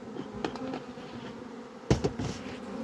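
Honey bees buzz steadily close by, a low droning hum with a couple of brief knocks and rustles partway through.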